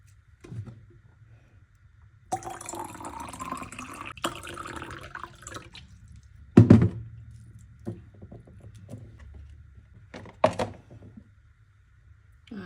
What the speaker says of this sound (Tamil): ஸோ இன்னும் கொஞ்சம் தண்ணி கீழே ஊற்றிடலாம்.